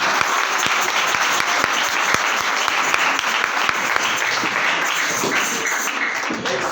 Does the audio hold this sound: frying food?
no